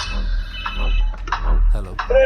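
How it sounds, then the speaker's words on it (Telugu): A telephone ringing indoors with repeated electronic tones, heard close behind a man's speech. "ఫోన్ వస్తుంది చూడు, లిఫ్ట్ చెయ్యి."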